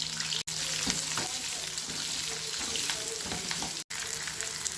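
Onions and curry leaves sizzle and fry in hot oil with popped mustard seeds and urad dal for a mutton kuzhambu tempering, a dense continuous crackle broken by two brief cuts.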